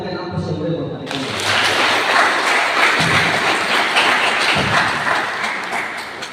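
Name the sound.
audience applause for the dean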